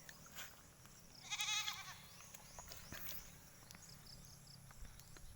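A goat bleats once, loud and close, on a banana farm, a short wavering cry set against quiet outdoor ambience with faint rustles and small knocks.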